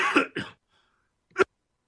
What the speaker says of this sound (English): let me cough here